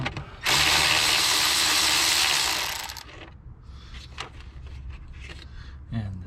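A ratchet spins loose a 10mm bolt on a Toyota Corolla starter, one long continuous buzzing whir up close that runs for a few seconds and then stops, leaving faint clicks and shuffling.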